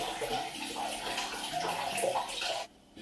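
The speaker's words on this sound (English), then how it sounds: "So what you're gonna do is you're gonna drain out the water," Water drains from a pan of soaked basmati rice in a home kitchen, a close, continuous splashing gush that runs steadily for a few seconds and then cuts off abruptly.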